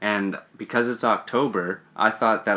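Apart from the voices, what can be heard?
None of the usual background noises is heard.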